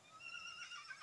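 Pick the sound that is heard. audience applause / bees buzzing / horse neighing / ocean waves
horse neighing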